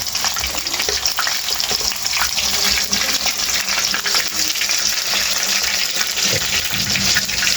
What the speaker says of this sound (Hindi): अब हमने मछली फ्राई करनी शुरू कर दी है।